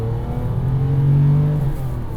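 A Porsche 959 engine revs at pull-away in first gear while the clutch slips, giving a deep, steady, throaty drone that swells slightly in pitch and then settles, heard close from inside the car.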